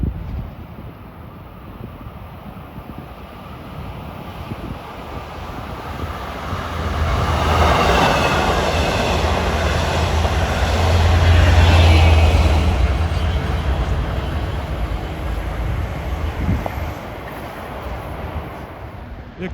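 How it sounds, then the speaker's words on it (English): A Long Island Rail Road diesel passenger train from Montauk to Jamaica approaches Rosedale station, its low engine rumble and rolling wheel noise swelling to a loud pass mid-clip amid wind buffeting, then fading. "Soon we should have train 2707 diesel from Montauk to Jamaica."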